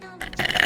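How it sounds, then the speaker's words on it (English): A single loud, close burp rises from a short grunting onset into a raspy, sustained belch lasting under a second. "rate that burp"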